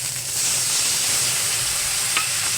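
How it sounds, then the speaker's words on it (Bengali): Cauliflower sautéing in a pan with turmeric, chili powder, ginger and a splash of water gives a steady, close sizzle and hiss with faint stirring scrapes throughout. "এটা কষিয়ে নিচ্ছি।"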